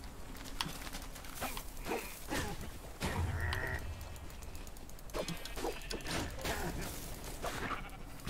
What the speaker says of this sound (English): I killed a sheep.